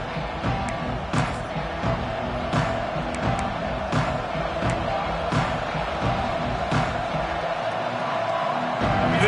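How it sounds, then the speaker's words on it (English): A football stadium crowd roars at the start of a Razorbacks home game, a dense, constant wall of cheering and yelling that holds steady for the whole stretch with no voice above it. "This crowd ready to make its presence known"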